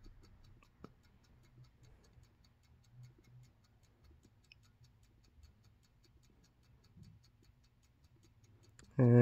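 A Chelsea Clock Co. Zig-Zag ship clock ticks in a quiet room, faint, evenly spaced clicks close by, ending with a brief loud burst.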